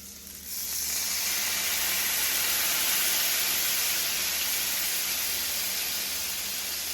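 Butter sizzles loudly in a hot pan after excess oil has been soaked up, a steady close hiss that starts abruptly and holds evenly, with no talk.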